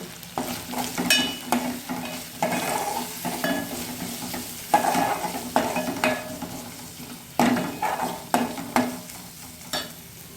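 Cabbage masala with chili powder sautés in a pan, a soft sizzle broken by repeated scraping stirs of a spatula against the pan, close and fairly loud, with no one talking.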